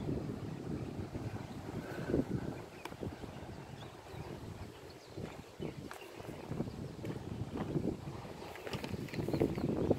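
Strong wind blowing across a golf course in Hawaii roars steadily into the microphone with continuous buffeting gusts, loud and close throughout, with no talking.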